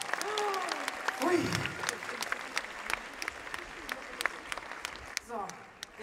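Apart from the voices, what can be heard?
applause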